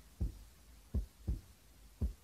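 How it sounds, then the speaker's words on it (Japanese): Four slow, deep heartbeat thumps pound at an even pace with nothing else around them, a tense pulse sound effect from a dating-drama video game. "このドキドキする音がこう緊張感を煽りますね。"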